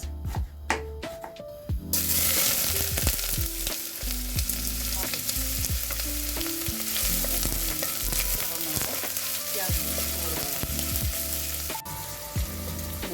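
Chopped onion frying in hot oil in a Kazakh home kitchen, a steady loud sizzle broken by stirring scrapes and clinks, starting after a short quieter spell.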